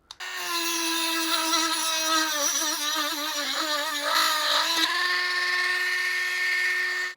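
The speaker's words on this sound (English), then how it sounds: "So I'm going to use my Dremel with a cutting disc, not a brush." A Dremel rotary tool with a cutting disc slices through a motorcycle bolt on a Suzuki DRZ400SM, giving a loud, steady high-pitched whine that wavers in pitch as the disc bites, running without pause for about seven seconds.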